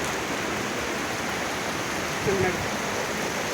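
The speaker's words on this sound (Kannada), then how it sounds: "ಮಳೆ ಬರ್ತಾ ಇದೆ ನೋಡಿ" Steady rain hisses evenly throughout, a dense continuous wash of falling water with no breaks.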